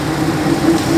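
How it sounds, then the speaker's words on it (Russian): A car's rear axle gives off a loud, steady drone while driving at about 60, a continuous tonal hum over low road and engine rumble for one second. "конечно, гудит задний мост жестко"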